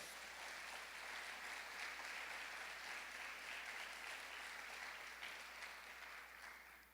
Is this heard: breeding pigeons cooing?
no